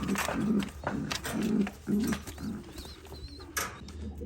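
Several Jansen racing pigeons coo in a repeating low, rolling rhythm close by, with a few faint chirps and rustles between the calls.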